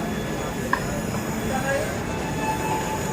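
The Jodhpur Howrah Express 12308 running along the line, a steady rumbling roar from inside the coach with a faint squeal of wheels on rails.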